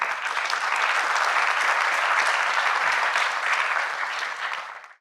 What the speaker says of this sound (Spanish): Así que también un aplauso para ellos,